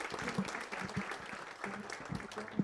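An audience at an academic event on schooling and visual disability gives a brief round of applause for a university professor, scattered soft clapping that sounds fairly faint and thin, with some murmuring voices underneath.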